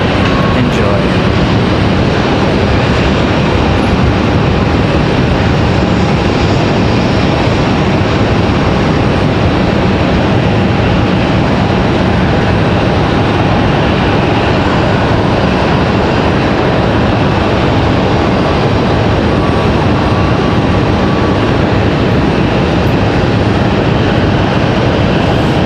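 An Air France jet airliner departs Raleigh Durham International Airport, its engines a steady broadband roar held loud and continuous throughout, with a faint talking voice underneath at times.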